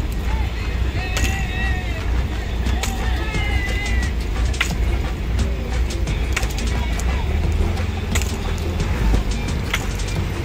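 A houseboat motor runs on the backwaters of Alappuzha, Kerala, as a steady low engine drone throughout, mixed with voices and music on board.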